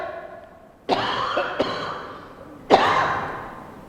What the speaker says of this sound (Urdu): تھوڑی دیر میں کھانسی چڑھ آ گئی